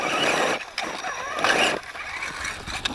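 Motor of a Losi ULTRA Desert Buggy RC car whining in bursts, with rising and falling revs, short drops and brief scraping pauses, close and fairly loud.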